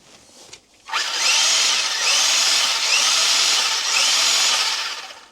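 A Tamiya Porsche 956 RC car's small electric motor revs up and whirs with a high-pitched whine, swelling and easing in a few pulses, close by with no talking.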